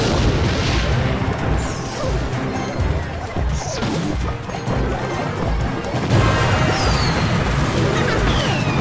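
A Rocket spell explosion in the mobile game Clash Royale, a loud smashing crash amid busy battle effects and constant arena noise, dense and near throughout.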